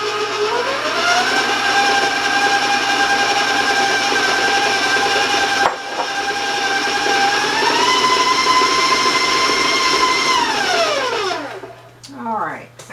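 An electric mixer creams butter and granulated sugar, a loud, steady motor whine that rises in pitch, holds, then winds down and stops, with brief scraping afterward.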